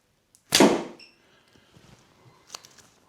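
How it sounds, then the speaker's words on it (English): An arrow, 250 grain and 30 inches long, shot from a 20-pound mini fiberglass bow by Holiday Archery in Thailand: one sharp, loud thwack of string release and impact, then quiet with a few faint clicks and a small later tap. "I'll shoot the other one more time."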